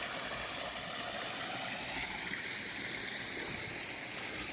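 Water tumbles from a pond waterfall into a large 120,000-gallon pond, a faint, steady rushing splash with no pauses and no voices.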